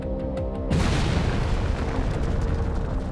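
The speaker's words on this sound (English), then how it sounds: "the Army successfully detonates the world's first atomic bomb" The Trinity test of the first atomic bomb in the Jornada del Muerto desert of New Mexico: a sudden deep boom that swells into a sustained, loud roaring rumble after a quieter start.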